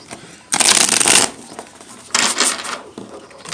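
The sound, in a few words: shuffling tarot cards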